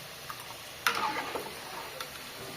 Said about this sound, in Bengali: এই যে এই দেখো পেঁয়াজ রসুন দিয়ে তেলে দিছি ডাল